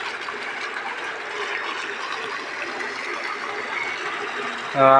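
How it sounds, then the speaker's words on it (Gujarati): Steady hum of a farm water pump motor with running water splashing into a pool, continuous and even, ending with a brief louder tonal burst. "મોટર ચાલુ છે"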